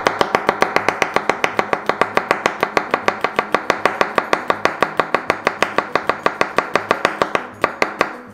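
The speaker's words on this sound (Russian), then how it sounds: "Перчик чили просто тонко нарезаем." Rapid, steady knife chops thinly slicing a chili pepper on a cutting board, dozens of crisp even taps in quick rhythm, close and clear with no talking.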